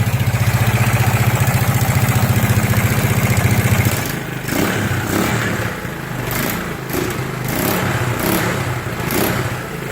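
An ATV engine with a new carburetor and a loosely fitted exhaust runs at a steady, loud, close idle for about four seconds, then continues less evenly with rattling, clattering bursts over the engine note.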